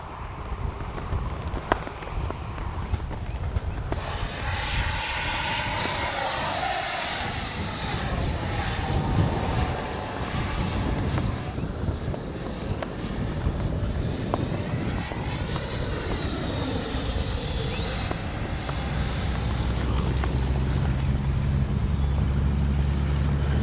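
A Freewing 90mm F-22 V2 RC jet flies in gusty wind with a steady, loud ducted-fan whine that rises and falls in pitch as it passes and maneuvers, the roar sustained throughout.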